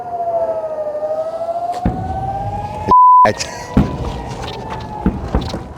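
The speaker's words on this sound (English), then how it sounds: "Сирена. A siren." A wailing siren rises and falls steadily, with a sharp steady beep cutting in briefly and scattered thumps and rustling nearby, during the Israel–Gaza war.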